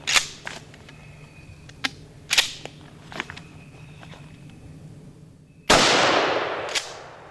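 A Mossberg 590 Shockwave shotgun fires a single loud, close blast of 8-pellet buckshot at a target 21 feet away, with a long ringing decay. Faint clicks and handling noises come before the shot.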